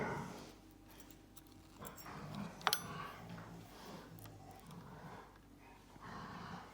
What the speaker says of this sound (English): now the dogs are starting to have a play